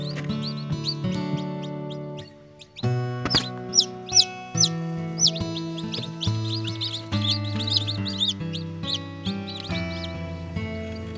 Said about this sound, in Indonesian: Inilah adalah anakan ayam ceman dan kocin.